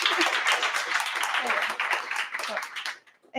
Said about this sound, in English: let's give a small round of applause and encouragement to Amanda